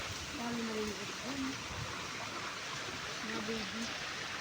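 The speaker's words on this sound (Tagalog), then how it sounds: "Sapa." A flowing stream by a river washes along as a steady broadband rush in the background, while people talk faintly over it in short bursts.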